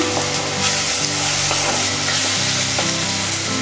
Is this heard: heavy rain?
no